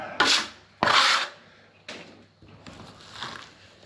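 A Marshalltown carbon trowel skimming plaster across a ceiling, making several loud, raspy scraping strokes, the first two strong and close, followed by lighter, softer passes.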